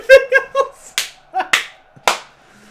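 A few short vocal sounds, then three sharp, loud claps spaced about half a second apart, ringing slightly in a quiet background, from the game Warcraft III.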